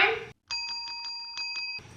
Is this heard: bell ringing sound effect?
yes